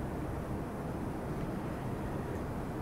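C7 spaceplane engines in Kerbal Space Program roar steadily as they throttle up, a continuous broad rumble with no talking.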